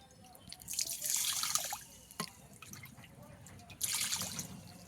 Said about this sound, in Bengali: দেব জল।